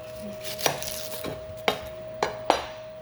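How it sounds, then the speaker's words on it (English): A knife chops a red onion on a cutting board in four crisp, separate thuds spaced irregularly over a few seconds, close and moderately quiet, with a faint steady hum behind. "just going to chop it off for sauteing later"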